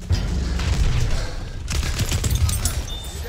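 Battlefield 1 combat with a grenade blast and rapid gunfire, dense booming shots and bursts overlapping close by, with a sharp rise in crackling fire midway and voices occasionally underneath.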